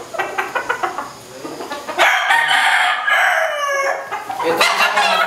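A fighting cock crows loudly and close by, two long crows following a burst of clucking, with no talk.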